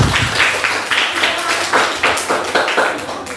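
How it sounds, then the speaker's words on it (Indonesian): A classroom of pupils claps together for a classmate in a quick, steady rhythm of sharp, bright bursts that keeps going throughout. "kasih tepuk tangan dulu untuk Ariantini"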